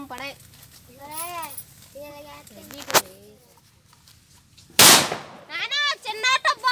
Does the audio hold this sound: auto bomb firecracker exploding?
yes